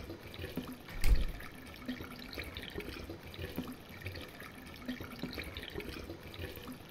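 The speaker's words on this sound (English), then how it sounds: "The water, the faucet busted." Water gushing from a busted faucet in a horror video game, a steady low wash of running liquid with a brief louder burst early on, heard alone at moderate level.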